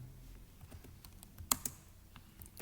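Quick, faint keystrokes on a computer keyboard tap out a short irregular run, with one sharper clack standing out partway through.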